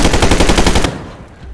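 An Abakan assault rifle fires in S.T.A.L.K.E.R.: a rapid, loud automatic burst of evenly spaced shots, close up, cutting off abruptly and leaving a short echoing tail.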